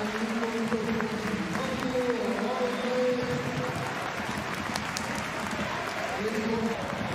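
A football stadium crowd at a Sandefjord versus Strømsgodset match applauds steadily as a player is substituted late in the game, a broad, continuous clapping under a commentator's voice.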